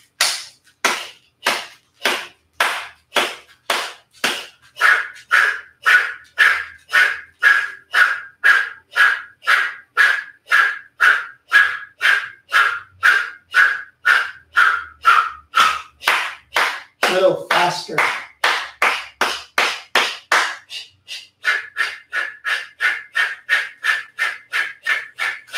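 An instructor's hands clap in a steady, loud rhythm of several dozen sharp claps during a hot yoga breathing exercise, with forceful exhalations and a brief voice partway through.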